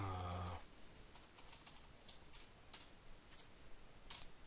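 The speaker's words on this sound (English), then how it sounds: "I can type." Faint, sparse computer keyboard taps come through at irregular intervals over quiet room noise after a short tonal sound at the start, with no one speaking.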